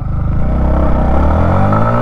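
A 2024 Yamaha MT 15 V2.0 motorcycle pulls away in first gear, its engine note rising steadily in pitch as it accelerates, loud and close with no voices.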